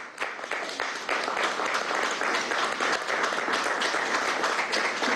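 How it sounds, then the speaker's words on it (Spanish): Sustained, dense applause from an audience at a government press conference, loud and steady throughout without speech. "Cilia Flores, para quienes pido un aplauso."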